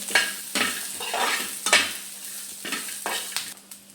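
Green chillies and a little ginger roast in a pan for a fasting-style thecha, giving a close, steady sizzle with repeated scraping stirs from a spatula at an uneven rhythm.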